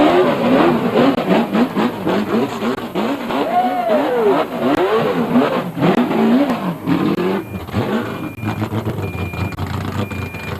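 A V8 Euro race car engine, NASCAR-style, revs repeatedly at an outdoor classic and sports car club show, rising and falling in bursts, loud and close, with people talking nearby.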